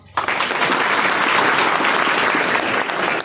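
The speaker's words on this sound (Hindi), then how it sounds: "ताली बजाइए थोड़ा" Students at a physics coaching centre in Jamui clap together, a dense, steady burst of applause that starts abruptly and keeps going loud and close for the whole stretch.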